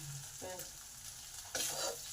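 Ginger and chopped green chili fry in hot oil with asafoetida and black cumin, a close steady sizzle broken by stirring scrapes and a louder burst near the end, with no voices.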